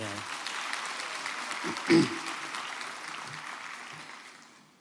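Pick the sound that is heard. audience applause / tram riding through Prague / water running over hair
audience applause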